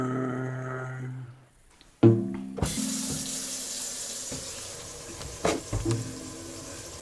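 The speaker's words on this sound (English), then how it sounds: "I need to turn off the water." Water suddenly bursts from a kitchen sink pipe at a faucet shutoff after a squeaky, tonal start and a clunk, then rushes in a loud steady hiss with a few knocks.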